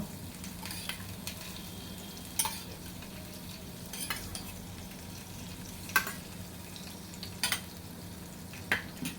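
Butter and refined oil sizzle steadily in a pan, a soft continuous frying hiss punctuated by occasional sharp clinks of a utensil stirring against the metal.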